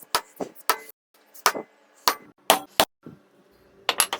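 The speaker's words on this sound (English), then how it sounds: "my favorite thing is taking my axe and giving it a couple of whacks" An axe whacks wooden furniture to distress it: a series of sharp, close, loud impacts in an irregular rhythm, roughly ten blows with short pauses between them.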